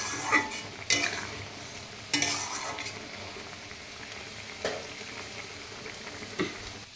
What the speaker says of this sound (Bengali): ফুটে এসে তরকারি, সোয়াবিন আলুর তরকারিটা